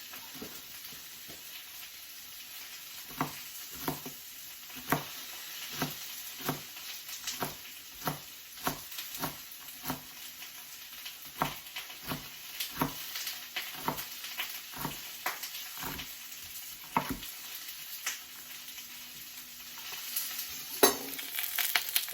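Fennel browning in a pan for an orange fennel mascarpone risotto, a steady close sizzle broken by repeated sharp stirring scrapes and clatters throughout, with no talking.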